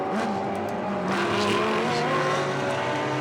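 A Lamborghini race car passes at the Spa 24 Hours endurance race. The engine roars loudly and steadily, rising slightly in pitch as it goes by, with no talking.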